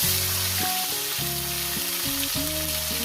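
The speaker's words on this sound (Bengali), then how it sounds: "টমেটোটা মিনিমাম এক থেকে দেড় মিনিট এটাকে ভেজে নেবো" Tomato hits hot oil tempered with nigella seeds for a rohu fish curry, giving a bright continuous sizzle under steady background music, with no one speaking.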